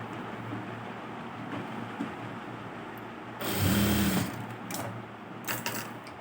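Sewing machine double-stitching a small blouse, a quiet steady hum that swells into a louder whirring burst of stitching midway, with light handling noises after.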